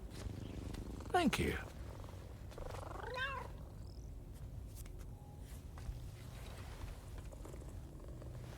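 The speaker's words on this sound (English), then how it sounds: "He's a kitty. He came to visit me in my room." A cat purrs softly in the Death Stranding 2 video game, a low continuous rumble heard close but faint under a mewing call and brief spoken lines.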